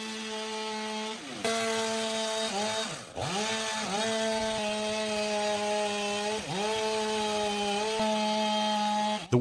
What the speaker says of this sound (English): The worker uses a chainsaw to even out the edges of the logs